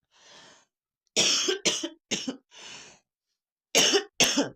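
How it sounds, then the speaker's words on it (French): A person coughs several times in short bursts, with a few breathy pauses between the coughs, close to the listener. "Veuillez m'excuser, j'ai une toux."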